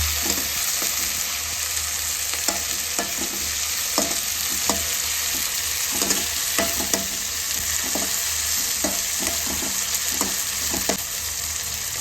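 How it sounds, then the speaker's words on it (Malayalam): Tomatoes sauté with ginger and garlic in a pan, a steady loud sizzle punctuated by a regular series of spoon taps and scrapes as the mixture is stirred, close and continuous with no talking. "ഇഞ്ചിയും വെളുത്തുള്ളിയും ഒന്ന് വഴന്നു വരുമ്പോഴത്തേക്കും നമുക്ക് അതിലേക്ക് തക്കാളി ഇട്ട് കൊടുക്കാം"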